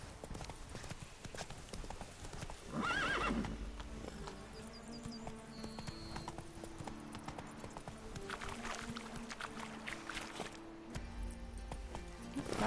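A horse gallops in The Witcher 3 Blood and Wine, with rapid rhythmic hoofbeat clip-clops at low level over quiet game ambience and occasional soft tonal effects.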